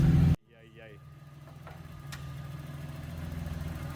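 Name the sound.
VR6 12-valve AAA engine idling with dips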